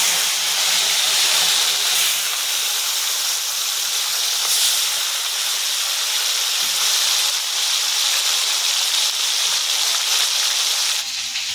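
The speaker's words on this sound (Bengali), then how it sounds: "আমার তেল গরম হয়ে গেছে আমি আমার মাছটা ভেজে নিচ্ছি" Constant loud sizzling and hissing of fish frying in hot oil continues unbroken for the whole stretch, with no talking.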